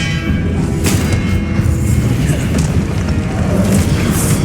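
A continuous, heavy booming roar from the Confringo blasting spell in the Hogwarts Legacy video game, loud and dense throughout with no clear pauses.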